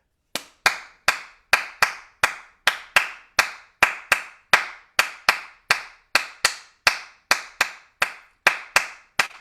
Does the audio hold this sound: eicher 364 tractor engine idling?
no